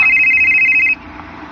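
A telephone rings once in a radio drama, a loud steady electronic trill signalling an incoming call that cuts off after about a second.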